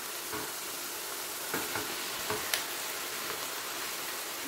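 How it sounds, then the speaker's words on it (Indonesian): Chicken, mushrooms and softened vegetables sauté in a pan for chicken pie filling, a constant moderate sizzle broken by spatula scrapes and stirring knocks. "Ini diaduk sampai seperti kita menumis juga ya masak chicken pie ini."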